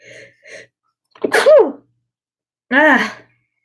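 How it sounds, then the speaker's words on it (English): A sharp, close sneeze brought on by allergies, with a short intake of breath before it, followed by a second sneeze a moment later. "Hold on, I have to sneeze."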